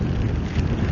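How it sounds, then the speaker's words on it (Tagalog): Strong typhoon wind buffets the microphone in a steady, loud low roar with gusty rumbling throughout, outdoors on a motorcycle (NMAX) during Typhoon Nando, no voices. "Grabe ang lakas ng hangin guys."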